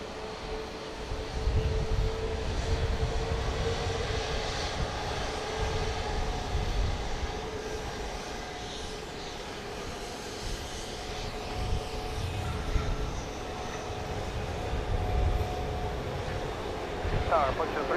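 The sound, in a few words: Southwest Boeing 737-700 jet arriving at Dallas Love Field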